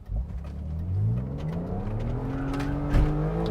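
A BMW Z3 M Coupe drives along with its engine note rising steadily as it accelerates, a continuous close-up drone and whir filling the cabin with no talking.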